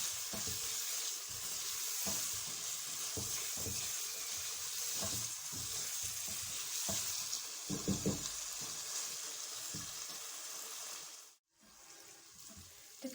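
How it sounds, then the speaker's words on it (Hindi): Minced meat keema sizzles and fries steadily in a pan with aloe vera, a dense continuous crackle broken by occasional stirring scrapes and clinks, with a brief dropout near the end. "अब इसे भून लेना चाहिए।"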